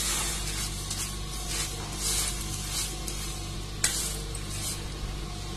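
Dry bhel of puffed rice with chopped onion and red chilli powder being tossed and stirred in a bowl, a steady soft rustling and scraping with one sharper clink near the end, no talking.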